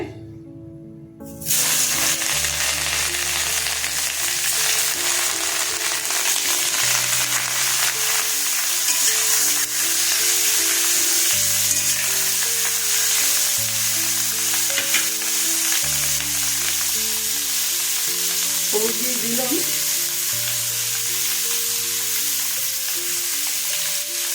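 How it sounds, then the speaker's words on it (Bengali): Cauliflower florets fry in reused fish-frying oil in a wok. A loud, continuous sizzle bursts in after a short silence and holds steady, with occasional stirring scrapes and no talking. "কপিগুলো ভেজে নিচ্ছে"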